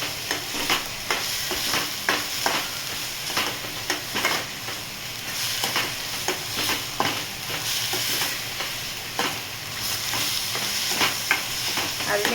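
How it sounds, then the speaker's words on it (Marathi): Onions sautéing with salt in a pan for paneer bhurji sizzle in a steady close hiss, broken by repeated rhythmic scrapes and stirs of a spatula against the pan, with no talk. "कांदा परतायला खूप टाईम लागतो, म्हणून मी आता त्यामध्ये थोडंसं मीठ आधी टाकून घेते, म्हणजे कांदा लवकर परतला जाईल"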